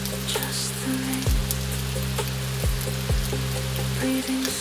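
Steady rain falls in a continuous, even hiss, broken now and then by soft drips and low thuds, with a faint hum running underneath and no voices.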